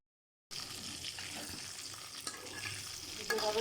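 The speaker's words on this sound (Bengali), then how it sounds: "এভাবে করে আমি লাল লাল করে ভেজে নেব। পেঁয়াজ বেরেস্তা করে নেব।" Onions sizzling and frying in a pan while being cooked down for biryani, a steady dense crackle with occasional stirring scrapes, close and continuous after a brief silent start, with no talk.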